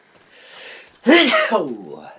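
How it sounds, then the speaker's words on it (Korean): A single loud, close sneeze bursts out after a stretch of soft breathy noise, then trails off into a voiced tail. "재채기가 나오네"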